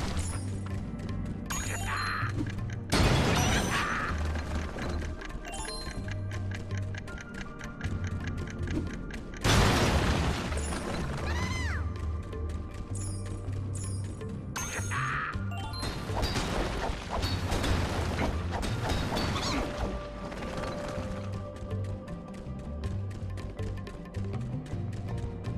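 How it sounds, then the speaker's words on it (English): Bombs blast purple crystals apart in the Skylanders Giants video game, with three loud crashing explosions and shattering bursts spread over steady background game music. "use the bomb to blow up the purple crystals"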